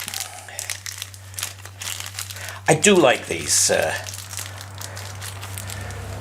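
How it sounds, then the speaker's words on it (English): Small plastic bags rustle and crinkle close up during motorcycle parts work, a couple of sharper crackling bursts standing out briefly while someone talks over them. "Then we have another little plastic bags up there"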